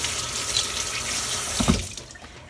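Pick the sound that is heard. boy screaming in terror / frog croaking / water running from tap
water running from tap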